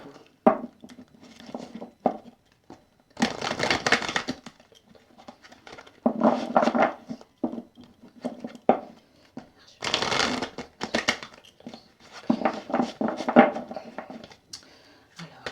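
Tarot-style cards are shuffled by hand for a horoscope card reading, in repeated close bursts of papery riffling and sliding separated by brief pauses, with soft taps between them and no clear talk over it.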